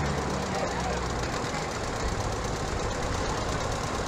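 A vintage tractor with a big 504 engine and a straight pipe idles at a tractor parade, making a loud, dense, continuous rumble that fills the whole moment.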